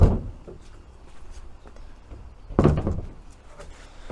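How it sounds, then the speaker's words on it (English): A Renault Clio 172/182 car door being removed, with faint handling knocks and a louder thud of the panel shifting partway through, close in a quiet space. "I'll take the door off."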